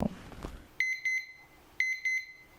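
An alarm clock beeps in two bursts of rapid electronic pips, with a soft rustle at the start and quiet pauses between bursts.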